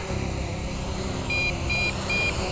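A drone remote controller for an MJXRC Bugs 2 Special Edition beeps a low battery warning, three short evenly spaced high beeps over steady outdoor background noise.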